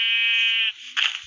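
A Minecraft sheep gives a short, loud, nasal bleat with a wavering tone, then a second rougher burst, heard alone and close.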